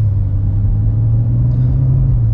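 A BMW engine with a dual-clutch transmission swap and single-mass flywheel rumbles steadily at close range while accelerating in traffic, a low continuous drone that holds level throughout with no voices.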